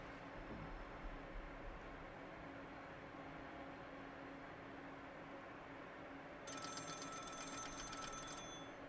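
In a horror short film, a telephone bell starts ringing partway through after a quiet, low hum, a bright metallic trill that is faint and heard alone.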